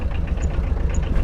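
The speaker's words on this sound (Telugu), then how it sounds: "బైక్ కార్ ఇవి 2 వైర్లు ఇట్లా సెల్ఫ్ చేస్తే ఇది స్టార్ట్ అవుతుంది గైస్." A motorbike engine hot-wired by touching two wires together idles with a steady low rumble and faint knocking pulses, close and continuous with no talk.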